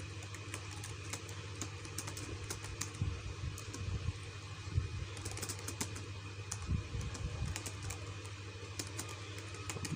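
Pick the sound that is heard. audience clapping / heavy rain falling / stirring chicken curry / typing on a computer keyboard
typing on a computer keyboard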